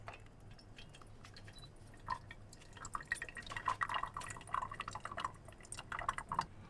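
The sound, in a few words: parmesan cream being poured into a cream siphon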